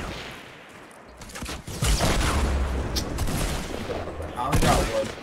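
Gunfire from a Fortnite Battle Royale match, a loud burst of rapid shots and game effects, with a second sharp burst near the end, while players talk over it.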